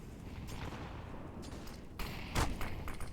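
Rapid rifle spray in Counter-Strike on the Inferno map during a professional match: a steady stream of fairly faint gunshots throughout, swelling into louder, sharper bursts toward the end, with no voices over it.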